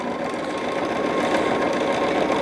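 A sewing machine straight-line stitching a quilt, running in a fast, even, continuous mechanical chatter heard close up with no talking.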